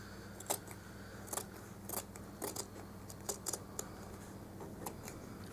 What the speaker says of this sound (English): We just need to cut some of this out.